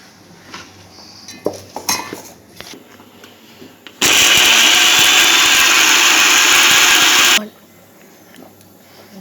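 A kitchen mixer grinder blending chopped beetroot roars at a steady, loud whir for about three seconds, preceded and followed by light clinks of the jar and lid.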